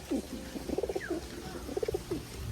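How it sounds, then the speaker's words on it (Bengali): Pigeons on a wet rooftop during rain, soft repeated cooing in short bursts, fairly close but faint, over a low background hiss. "তো পায়রাগুলোকে এখন তাড়াতাড়ি করে ছেড়ে দিলাম খাবার খাওয়ানোর জন্য"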